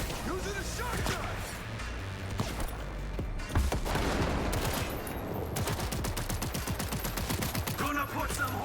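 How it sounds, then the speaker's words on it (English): Rapid, dense bursts of shotgun fire in Cyberpunk 2077 Phantom Liberty, loud and continuous throughout, with heavy booming blasts piling over one another amid game combat noise. "Using a shotgun!"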